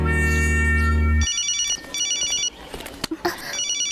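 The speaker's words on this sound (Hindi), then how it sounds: "वो मेरा फोन है।" A mobile phone ringtone rings loudly in a repeating electronic melody, breaking in after a steady tone and cutting off between bursts, with brief knocks and shuffling sounds around it.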